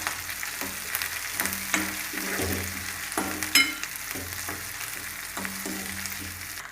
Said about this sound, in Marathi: कांदा आपला छान परतून घ्यायचा